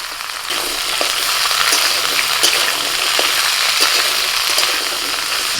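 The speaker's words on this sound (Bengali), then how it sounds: "কড়াই যে তেল আছে ওই তেলের মধ্যে আমি সবজিগুলোকে একটু ভেজে নেব" Potato, radish, eggplant and gourd pieces fry in hot oil in a wok, giving a loud, steady sizzle with faint stirring clicks over the hiss and no voices.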